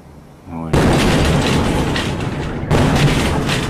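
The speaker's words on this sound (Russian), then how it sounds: "Это звуковая волна, астероид." A meteorite's sonic boom passing overhead in Russia: a sudden loud, rumbling blast that fills the air, followed by a second heavy boom a couple of seconds later, both sustained and roaring rather than sharp.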